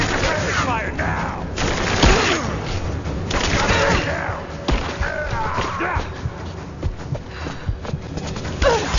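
Rapid gunfire bursts and fusillades in a Tomb Raider action game, loud and continuous with thuds and impacts, mixed with shouting voices throughout.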